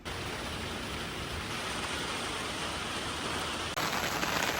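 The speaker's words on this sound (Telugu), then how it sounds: "ఏమైనా పనులు పెట్టుకున్నప్పుడే వర్షం పడుతుంది" Steady, dense hiss of rain falling, continuous and even throughout, briefly shifting in tone near the end.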